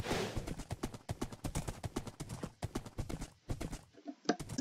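Minecraft horse hooves clip-clop in a quick, steady rhythm of crisp individual knocks, close and clear, with a short pause near the end before a final step.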